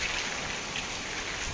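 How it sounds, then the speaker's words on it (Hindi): Heavy rain pours down steadily at the Jagannath temple, a dense, unbroken hiss of drops striking the surfaces close by, loud and constant with no voices over it. "बहुत जोर से बर्षा"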